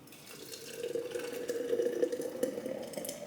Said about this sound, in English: Why don't we just pour it out and then they could see?